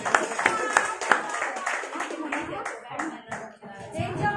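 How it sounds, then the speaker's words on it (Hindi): Audience applause at a stage event, a burst of clapping from a crowd over several seconds, with a speaking voice mixed in and hand claps sounding fairly close. "तो जोरदार तालियों के साथ"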